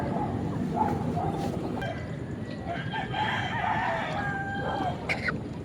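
A backyard brood hen and chickens cluck and crow in a noisy flock, steady and close, with overlapping calls and a voice faintly beneath the birds.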